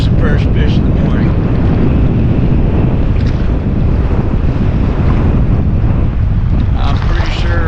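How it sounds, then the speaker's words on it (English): Strong gusting wind on a river during a fishing trip on the St. Croix River in Minnesota, loud buffeting microphone rumble throughout with water lapping beneath, while someone talks over it. "Hopefully you can hear me over this wind."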